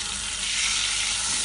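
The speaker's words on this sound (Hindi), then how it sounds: "इसे हमें अच्छे से भून लेना है ताकि प्याज की जो स्मेल है वो इसमें से रिलीज़ हो जाए।" Ground onion paste frying in oil with cardamom and bay leaf for a mutton kofta curry, a steady loud sizzle that holds evenly throughout with no talk.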